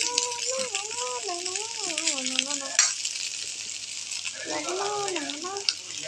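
Chow mein sizzles and crackles as it fries in a pan, a bright steady frying hiss with some stirring rattle, while a person talks over it in a kitchen.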